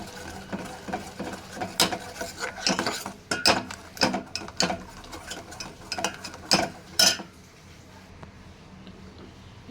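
A utensil stirs milk powder into a pot of large-pearl sabudana dessert, making a run of irregular metallic clinks and scrapes against the pot that stop for a quieter stretch at the end.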